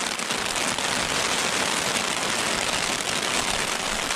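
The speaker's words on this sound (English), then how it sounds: "Clouds over here, rain coming down. Got a tarp set up, so we're in the dry." Rain falls steadily onto a tarp in the Uinta mountains on the Highline Trail, a constant dense hiss of drops drumming close by with no voices.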